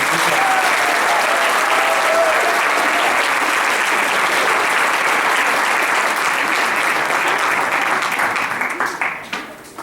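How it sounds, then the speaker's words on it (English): Sustained audience applause at a JROTC military ball fills the room for nearly ten seconds, loud and steady, then thins and tapers off at the very end. "Give them a round of All applause"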